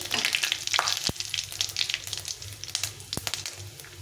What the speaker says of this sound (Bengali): একটা শুক লঙ্কা ফাটিয়ে দেব আর তার সঙ্গে একটু পাঁচ ফোড়ন নিয়েছি একটু পাঁচ ফোড়ন দিয়ে দিলাম একটু ভেজে নিতে হবে